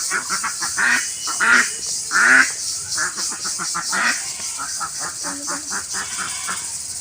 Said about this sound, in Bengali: আর এটা হচ্ছে হাঁসের খোপড়া, এখানটায় রাত্রে ঘুমায় হাঁসগুলো